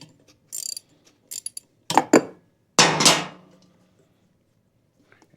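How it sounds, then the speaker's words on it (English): A 17 mm ratcheting wrench unscrewing the regulator backside on a Porter Cable C2002 6-gallon air compressor, with short metallic clicking and scraping bursts separated by silent pauses. "I'm going to use a ratcheting wrench here and just unscrew that."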